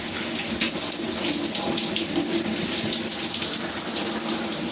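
Tap water runs steadily into a shower or sink while shampoo from a hemp shampoo bar is rinsed out, a continuous close splashing hiss with no talk.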